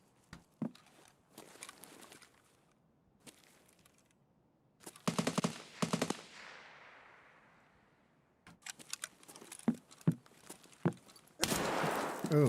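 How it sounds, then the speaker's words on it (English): Sniper rifle fire in the video game Escape From Tarkov: scattered sharp cracks and bursts that come and go over quiet stretches, some nearer and louder than others, ending in a dense loud burst. "I think it's a sniper rifle"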